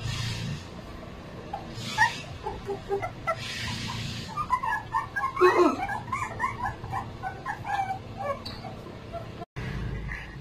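Puppies give short, high-pitched whimpers and whines in scattered bursts while being fed. Other animal noises and faint household sounds are heard around them.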